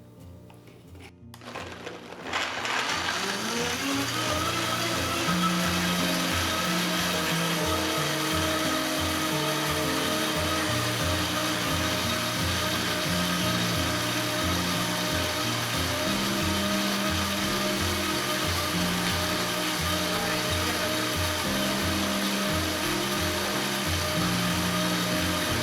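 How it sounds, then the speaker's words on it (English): A countertop blender blending avocado, banana and other smoothie ingredients, starting after a brief pause and then running loud and continuous with a steady motor whir for over twenty seconds. "Now that everything's in the blender, I'm gonna turn it on and blend it up."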